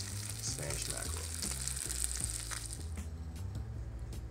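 Spanish mackerel fries in a pan in a Candlewood Suites hotel room, giving a steady close sizzle with crackling pops over a low background hum, with no talk.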